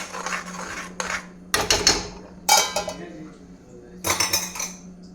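A metal lid set onto a pot of cooking masala, heard as several close, bright clinks and scrapes of metal on metal in short bursts, with a faint steady hum underneath.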